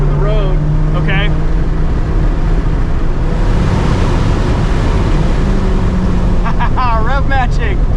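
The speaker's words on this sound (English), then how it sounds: "Rev matching. Beautiful, isn't it?" A 2014 NC3 Mazda MX-5 Miata on a race track, with an aftermarket exhaust, drones loudly throughout, its engine pitch dipping and swelling with quick blips between shifts, heard from inside the cabin with people talking over it.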